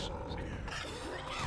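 Tank zombie roaring in Left 4 Dead within the sewers level, a low growling roar sitting under loud game noise and a talking voice through the whole short stretch.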